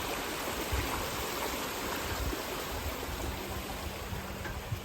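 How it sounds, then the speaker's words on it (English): An outdoor waterfall flows in a steady, broad rushing wash with no pauses, heard from a short distance along a walking path, with faint footsteps or handling thumps. "That waterfall sounds so nice."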